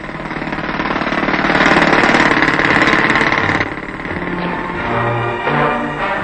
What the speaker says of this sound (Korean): 봉천동 고개를 터널 공사로 넘어가는 난공사를 하고 있다.